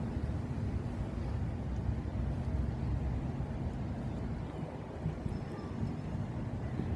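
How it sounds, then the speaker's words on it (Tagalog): Steady wind buffets the microphone, a constant low rumble with no break from start to finish. "Mahangin."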